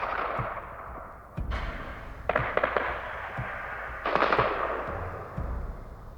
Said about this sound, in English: Gunshots were heard at the prison.